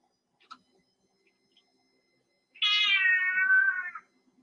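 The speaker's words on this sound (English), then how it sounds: "If you just heard a cat meowing" A house cat gives one clear, drawn-out meow of about a second and a half, fairly close, after a few faint ticks and clicks in an otherwise quiet room.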